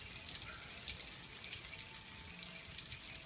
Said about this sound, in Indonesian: ini aliran aliran airnya ini nggak terlalu kencang ini.